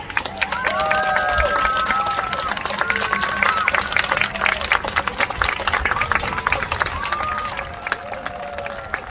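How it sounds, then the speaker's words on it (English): A crowd at a Pakistani rural mela fair held in Leeds, UK, cheering and applauding with steady clapping, while a voice carries over a loudspeaker on top of the noise. "give them all a cheer"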